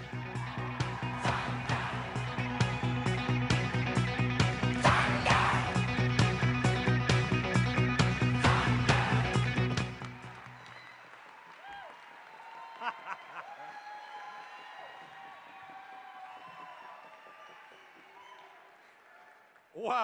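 A large convention crowd for North Dakota congressional candidate Brian Kalk bursts into loud, sustained applause and cheering for about ten seconds, then fades to scattered claps and murmuring.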